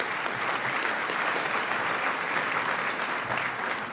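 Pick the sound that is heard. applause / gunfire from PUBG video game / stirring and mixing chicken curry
applause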